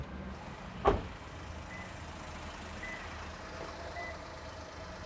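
Faint, evenly spaced electronic beeps from a Toyota Wigo's reversing sensor, about once a second over a low idling engine hum, preceded by a single sharp click.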